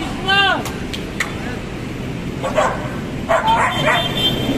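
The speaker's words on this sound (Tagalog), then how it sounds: "May mga aso pa." A dog gives a couple of sharp barks near the start, then more yips and barks follow amid voices and outdoor background noise.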